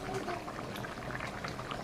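Spiced potato curry with salt and turmeric boiling in a pot, a steady close bubbling and simmering texture throughout, quiet and continuous with no talk.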